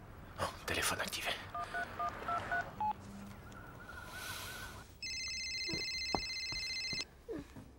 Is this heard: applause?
no